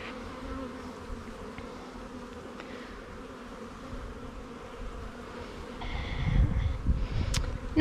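Honey bees buzzing steadily around an open nucleus hive during installation, a dense close drone with individual bees flying past the microphone and some rustling of frames toward the end.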